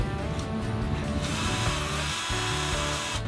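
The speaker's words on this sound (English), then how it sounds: "We need to tighten all the screws" A ratcheting tool clicks repeatedly up close as screws are tightened on a boat, with dense mechanical rattling throughout and no talking.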